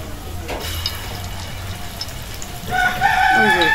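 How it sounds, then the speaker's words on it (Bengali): A rooster crows loudly and close by after a stretch of quiet background noise, its call running to the end. "মোরগ শুরু করে চিল্লানি।"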